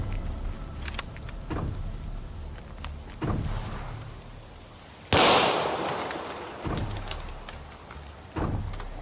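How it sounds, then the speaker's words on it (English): Several gunshots ring out at a shooting target, sharp single reports spaced a few seconds apart, one especially loud and close blast in the middle with a lingering tail. "I'm going to show you how we shoot"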